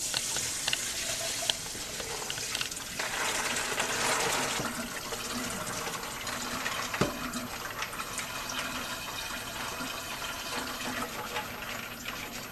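Water running and pouring into a pot of pinto beans being prepared for pressure canning, a steady broadband rush lasting throughout with brief clinks, fairly close and with no talking.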